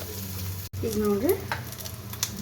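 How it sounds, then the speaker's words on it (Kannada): Chopped onions frying in a spoonful of hot oil in a pan, a steady close sizzle with spatula stirring, after a brief dropout near the start. "ಎಣ್ಣೆ ಹಾಕ್ಕೊಂಡು ಉಳ್ಳಾಗಡ್ಡಿನ ಹುರ್ಕೊಳಕತ್ತೀನಿ"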